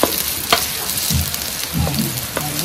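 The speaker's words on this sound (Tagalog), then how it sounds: "Gigisa-gisa." Onion, ginger and garlic sautéing in a hot pan, a steady close sizzle with occasional stirring scrapes and clinks.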